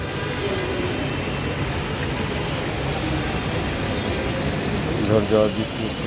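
The first summer rain of 2025 falls steadily, a dense, even hiss that stays loud and unbroken throughout, with a faint low rumble like a nearby engine underneath.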